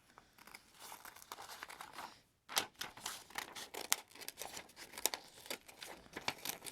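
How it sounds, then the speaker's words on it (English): Scissors cut an oval from a sheet of paper for a paper plane's cockpit, producing quiet, close crinkling and rustling with sharp snips in an irregular rhythm after a brief pause. "For the cockpit, what I do is I cut an oval onto the paper."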